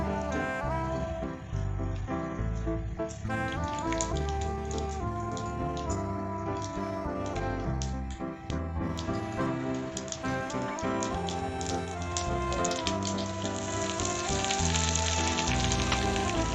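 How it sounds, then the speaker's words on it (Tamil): Steady crackling sizzle of mustard seeds, urad dal and curry leaves frying in about two teaspoons of hot oil in a ladle, dense popping throughout, close and fairly loud, with no talking. "ஒரு கரண்டி வச்சு ரெண்டு டீஸ்பூன் ஆயில் ஊற்றிக்கிங்க உளுந்து கடுகு கருவேப்பிலை சேர்த்து நல்லா தாளிச்சுக்குங்க"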